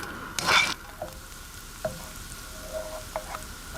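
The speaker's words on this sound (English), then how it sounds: "I'm frying them in cold-pressed rapeseed oil" Onions fry in cold-pressed rapeseed oil with a short burst of loud sizzling as they are stirred, followed by quieter crackles and a few light utensil taps.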